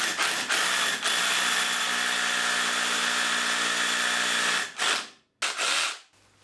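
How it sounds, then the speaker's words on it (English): A hammer drill bores into a wall in one long, loud, steady grinding run lasting several seconds, then stops and restarts in two short bursts, close by with no talking. "you can then switch the hammer action on"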